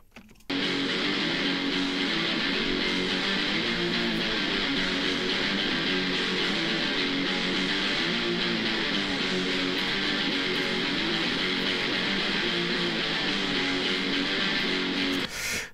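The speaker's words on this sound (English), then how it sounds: "Guitars in solo mixed sound like this." Soloed thrash metal guitars in an old-school style, a dense, loud wall of heavily distorted rhythm playing that runs steadily and without a break from start to finish, with no voices.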